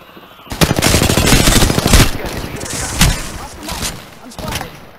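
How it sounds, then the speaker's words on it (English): Rapid automatic gunfire in the Apex Legends video game, loud sustained bursts with sharp single shots trailing off, over game voice lines. "I am taking fire."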